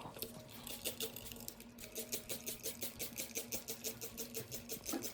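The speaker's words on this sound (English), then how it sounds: "you know, it's raining here." Rapid, even pattering of simulated rain falling on a small model landscape, close up and fairly quiet, with a steady rhythmic texture and no voices.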